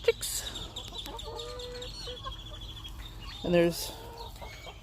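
Backyard hens cluck and murmur close by, with one louder squawk near the end, while someone speaks briefly over the flock.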